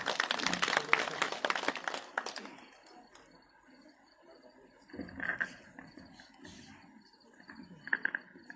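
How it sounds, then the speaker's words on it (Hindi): Audience applause at a book launch ceremony, a dense burst of clapping in the opening seconds that fades into quieter scattered claps and room noise. "तालियों के साथ हम आमंत्रित करते हैं"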